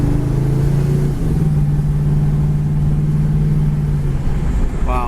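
A gold 1979 Pontiac Trans Am is heard from inside on the road. The engine drones loud and steady, with a shift in tone early on as it pulls and then holds a sustained hum.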